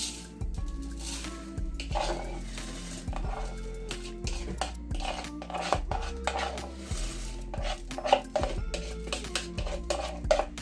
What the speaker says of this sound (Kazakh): Енді күрішімізді суға саламыз.